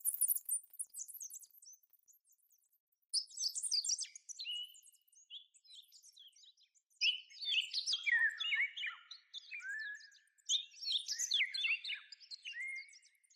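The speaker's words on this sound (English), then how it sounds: "This is green bee eater" A green bee-eater, a small bright-green South Asian bird, gives repeated high, thin chirping and trilling calls in bursts separated by short pauses, fairly close and clear with no other sounds.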